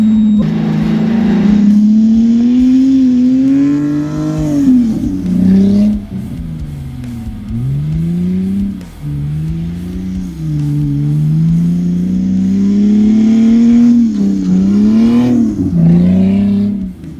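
A Lexus GS300 drift car engine revs hard and loud on a dusty track, its pitch climbing and dropping repeatedly as it's pushed through bursts of acceleration, with tire noise along the way.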